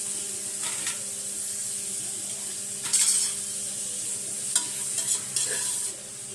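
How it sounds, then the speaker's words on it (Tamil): Vegetables and tomato sizzle steadily as they sauté in a hot pan, with occasional stirring scrapes and clinks of a utensil against the pan, close and continuous. "காய்கறிலாம் போட்டு வதக்கிடலாம் தக்காளியும் போட்டுடலாம் கொஞ்சம் வதங்கட்டும்"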